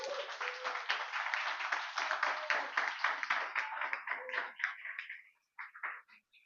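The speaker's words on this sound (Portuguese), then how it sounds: "Agora as 2 mãos para cima, dá uma salva de palmas." A church congregation claps together with hands raised, a dense, steady burst of applause that thins into scattered claps before briefly fading out and returning.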